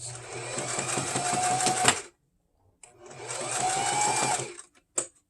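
Sewing machine stitching a beanie, running in two steady bursts of roughly two seconds each with a short pause between, close and fairly loud, ending in a brief final whirr.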